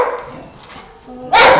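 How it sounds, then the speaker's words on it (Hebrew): A dog in a Bob the Builder cartoon lets out a sudden loud bark near the end, following a stretch of speech and household ambience. "ולא התכוונתי לזאת שנובחת"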